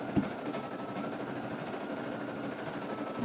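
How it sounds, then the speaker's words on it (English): A Brother SE 1900 embroidery machine stitches a design on a beanie held in a magnetic hoop, making a steady, fast mechanical whir and chatter that stays even and close for the whole stretch. "I'm going to be embroidering the next stitch out."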